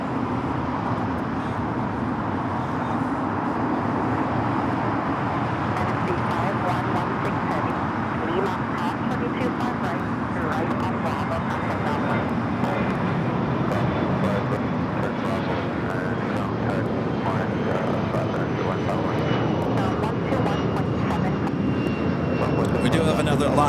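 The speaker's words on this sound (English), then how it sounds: "A350 pushing it back." Steady airport engine hum and ground noise accompany a China Airlines Airbus A350 pushing back at LAX, an even, moderately loud drone with faint high whine and no clear peaks.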